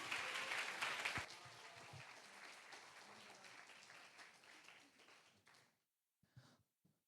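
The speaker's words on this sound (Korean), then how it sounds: "저희 부감님 올라오실 때 큰 박수로 환영해 주시면 감사하겠습니다." Church young adults' worship gathering greets a former club leader with applause: dense clapping from the room for about five seconds, thinning and fading out, followed by silence and a couple of faint sounds.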